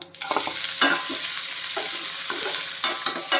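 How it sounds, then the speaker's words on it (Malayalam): Chopped onion and green chilli hit a hot pan and fry with a loud, continuous sizzle, broken by repeated scraping stirs of a spoon, close up with no talking. "ഇതിന് നമ്മൾ കട്ട് ചെയ്ത് വെച്ചിരിക്കുന്ന സവോളയും പച്ചമുളകും ഉണ്ടല്ലോ അതിട്ട് കൊടുക്കാം"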